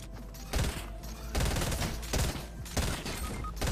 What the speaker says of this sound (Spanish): ¿Ya hay gente disparando?